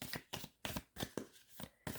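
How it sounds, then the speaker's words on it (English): Large oracle cards being shuffled by hand in a series of brisk riffling bursts, about seven short rustling flurries separated by brief pauses, close and fairly quiet with no talking. "these big cards I usually struggle to shuffle"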